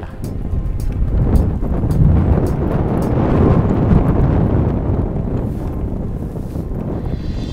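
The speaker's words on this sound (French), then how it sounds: "il y a du vent" Loud, steady wind roars across the microphone outdoors on a golf course, rumbling and gusting continuously without any talk.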